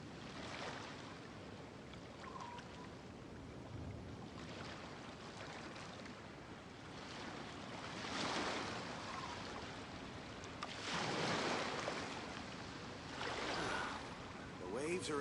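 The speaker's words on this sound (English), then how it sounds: "The waves are as calm as always." Calm ocean waves in the game Genshin Impact roll in soft, low swells of surf and water wash, rising in several gentle surges over a constant background hush.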